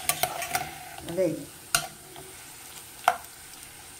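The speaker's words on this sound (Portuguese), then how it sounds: "Vamos refogar" Shrimp stew ingredients sauté in hot oil in a pan, a soft continuous sizzle punctuated by sharp scrapes and clinks of a stirring utensil, with a brief spoken remark over the cooking.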